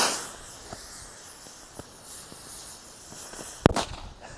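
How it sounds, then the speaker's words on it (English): A small salute helicopter firework goes off outdoors in daytime wind, with one sharp loud crack near the end after a few faint pops and a steady windy hiss. "we got this little, I think it's like a little salute helicopter"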